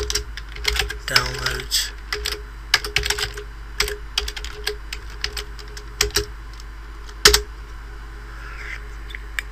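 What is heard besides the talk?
typing on a computer keyboard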